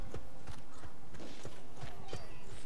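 Horse hooves clopping in the medieval combat video game War of the Roses, a steady run of hoof strikes over a busy, noisy battle background.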